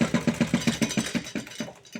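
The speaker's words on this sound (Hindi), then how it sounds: "और इसे आराम से हम इसे बिल्कुल आराम से सिलाई लगा लेंगे।" A sewing machine stitches a blouse in a fast, steady run of mechanical thumps, about seven per second, close and loud, slowing and fading slightly toward the end with no talk.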